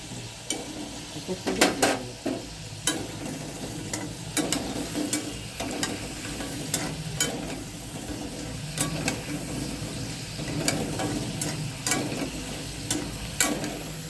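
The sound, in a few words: potato french fries frying in oil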